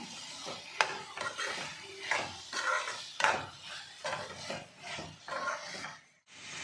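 Potatoes coated in masala are stirred in a pan for aloo kurma. A spoon scrapes and rubs against the pan in repeated uneven strokes, fairly quiet and close, with no speech.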